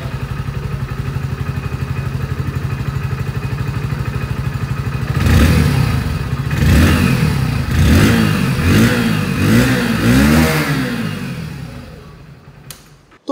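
A 2024 Hero Splendor Plus Xtec 2.0 motorcycle engine idles with a steady close thrum, then is revved repeatedly in a series of rising and falling bursts before settling and cutting off.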